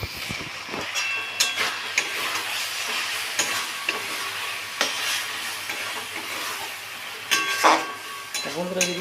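Mutton masala sautés in a pan with ginger, garlic, onion, chopped tomato, salt, cumin and coriander powder. A spoon scrapes and stirs in irregular strokes over a soft, steady sizzle, close by.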